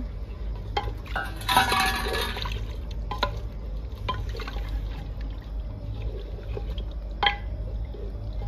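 Water pours into a pressure cooker holding chicken, a close splashing gush with a burst of louder pouring early on, followed by drips, light clinks of cookware and intermittent small knocks.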